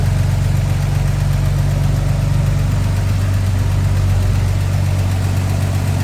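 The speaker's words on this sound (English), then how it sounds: "it's warmed up, come off the high idle" A 1955 Chevrolet 3100 truck's warmed-up 235 inline-six Thriftmaster engine idles steadily close by off high idle, a loud continuous low rumble with a throbbing exhaust pulse and no talking.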